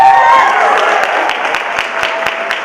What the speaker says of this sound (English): Give a round of applause for Max